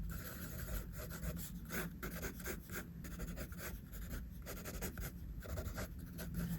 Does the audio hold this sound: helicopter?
no